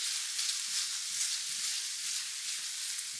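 Steak and peppers sizzle steadily in a frying pan, a dense, even hiss that holds at a moderate level throughout with no talking.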